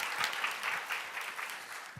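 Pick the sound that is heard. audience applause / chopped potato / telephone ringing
audience applause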